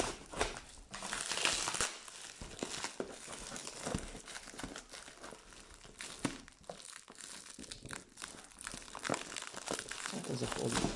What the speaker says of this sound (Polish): Ale ta czarna folia jest mocna.